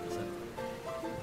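Heavy rain pours in a steady, dense hiss that fills the whole clip, with faint tonal hums layered underneath and no clear talking.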